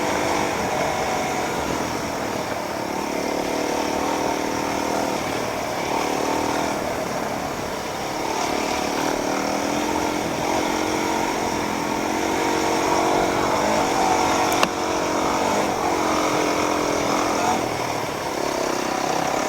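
A motorcycle engine drones steadily throughout on a trail, its pitch rising and falling slightly with throttle changes, loud and close with no talking.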